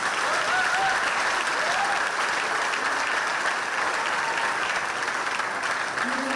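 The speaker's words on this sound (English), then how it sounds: "So a big round of applause for yourselves." Conference audience applauding at a world ranger congress in Sauraha, Chitwan, Nepal: a dense, steady wash of clapping from a large crowd that holds evenly loud throughout, with faint voices mixed in.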